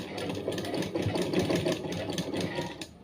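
A sewing machine stitches lace made from cord, a close, steady mechanical whirring with a rapid rhythmic knock that runs continuously for about three seconds before trailing off.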